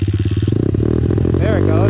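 A pit bike engine with the choke on sputters into life in a snowy outdoor spot, rapid putting firing turning into a rougher, rising run, close and loud as people talk over it.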